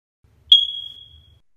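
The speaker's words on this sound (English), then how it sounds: "It's the smoke detector." Smoke detector chirp in an audio drama: one sharp, clear high-pitched blip that rings briefly and fades out, alone against near silence.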